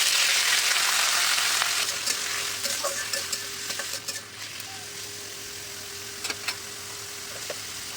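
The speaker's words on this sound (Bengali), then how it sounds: "জিরা ফোড়ন থেকে সুন্দর একটা গন্ধ চলে এলে আমি এর ভেতরে দিয়ে দিচ্ছি আগে থেকে কেটে রাখা পেঁয়াজ।" Chopped onion dropped into a pan with a cumin tempering, a loud close sizzle and hiss that settles into quieter frying, broken by scraping stirs and a few spoon clicks.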